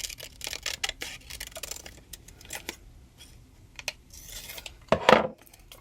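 Scissors cutting a small box and circle out of paper: scattered snips and paper rustles, close and soft, with a louder crisp rustle near the end.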